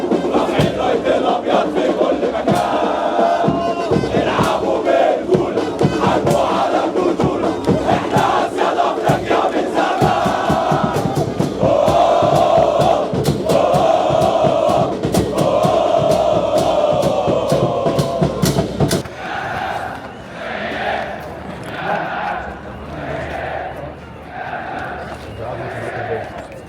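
Zamalek football supporters in a stadium stand chant together in loud, rhythmic waves, with sharp claps or drum hits punctuating the roar before it thins into a quieter, pulsing chant near the end.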